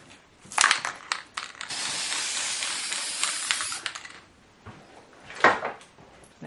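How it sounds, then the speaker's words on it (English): Stencil paint hisses from a spray can onto a glass window in a sustained burst of about two seconds, with short spritzes and handling clicks before and after. "this is the last spray this one gets."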